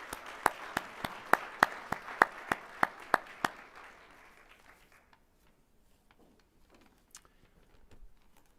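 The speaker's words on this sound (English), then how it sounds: "If you could give me a round of applause for the Chamber Board." Applause at a village luncheon for a chamber board, with one loud, regular clapper close by over a softer crowd that fades out within a few seconds, leaving a quiet room with a few scattered sounds.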